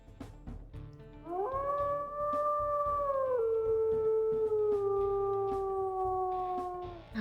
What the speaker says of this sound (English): we'll listen to his howls here